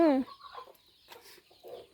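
A chicken gives one loud, harmonic cluck up close, followed by faint scattered clucks and rustling in a quiet farmyard after rain.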